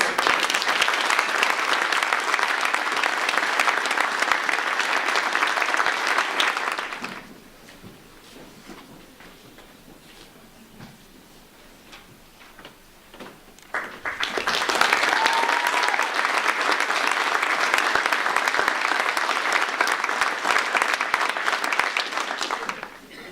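At a Gable Hall school certificate of achievement ceremony, an audience gives two loud bursts of sustained applause, split by a quieter gap of shuffling and small knocks in the hall.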